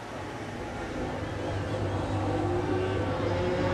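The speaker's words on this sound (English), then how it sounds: "Marc Marquez gets to twist the throttle on a factory Ducati" Marc Marquez's factory Ducati MotoGP motorcycle at the Ricardo Tormo circuit gives a loud, steady engine drone with a constant low hum. It carries on without a break and without any voices.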